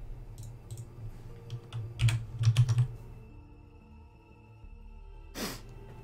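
Bursts of typing on a DAS mechanical keyboard with brown switches, quick clustered keystrokes and clicks up close, tapering into a quieter stretch before one last sharp clatter.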